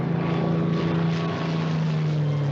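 A propeller warplane in flight from a 1950s naval aviation film, a steady droning engine roar with a constant low hum, loud and unbroken throughout.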